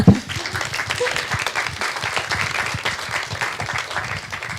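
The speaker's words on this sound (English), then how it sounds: "Can we get a round of applause for Aditi?" An audience applauds Aditi at the close of a climate change conversation event. A brief voice opens it, then a sustained round of crowd clapping follows, steady and fairly close, with a faint murmur of voices beneath.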